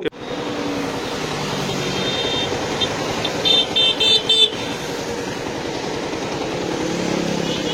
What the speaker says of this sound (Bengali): আমি আপনাদেরকে বাইকের সাউন্ডটা আরেকটা বার শোনাবো